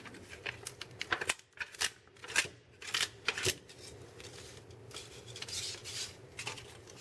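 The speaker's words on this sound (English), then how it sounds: "Score it really hard and bend it until it breaks off, just like we did before." An aluminum pop can strip is scored hard and bent back and forth until it snaps, making a string of close, crisp scraping, crinkling metal clicks in irregular bursts with short pauses between.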